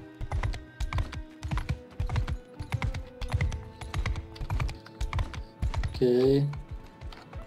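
Horse hooves clip-clop in the video game Mount and Blade, a steady quick rhythmic series of hoofbeats close up, with a short spoken word and a brief voiced sound near the end.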